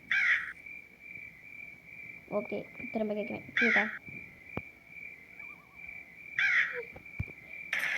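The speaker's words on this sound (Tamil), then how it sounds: "அண்டங்காக்கா" A jungle crow gives loud, harsh caws in short bursts, several spaced through the stretch, with insect or frog sounds and a person talking in between.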